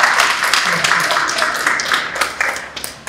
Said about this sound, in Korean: 박수 한 번 다시